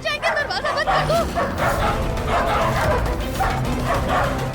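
Several dogs bark and yip in a loud, continuous cluster, with whimpering mixed in over a busy, noisy indoor scene from a Hindi TV serial.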